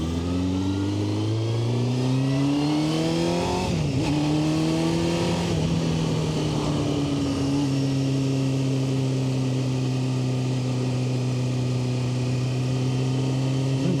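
A Honda CBR600F motorcycle engine revs loud and close while riding, its pitch climbing and dipping through gear changes before settling into a steady high drone.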